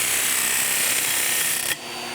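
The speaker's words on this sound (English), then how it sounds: "I'm going to go over here to the disc sander and take the rough edges off this piece of copper" A disc sander grinds the rough edges off a piece of copper in a loud, steady, hissing rasp that cuts off abruptly as the metal is lifted away, leaving the motor whirring more quietly.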